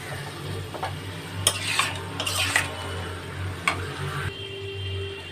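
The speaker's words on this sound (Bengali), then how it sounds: "এবার মশলাটাকে একটু ভালো করে নেড়ে নেব বেগুনের সাথে।" A spoon scrapes and knocks through a spice mix with fried eggplant in a pan. A few sharp metallic clinks stand out over a soft, steady frying hiss, and no one speaks.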